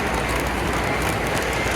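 Model train rolling past at a train show, a steady continuous rumble and clatter at close range throughout, with no talk.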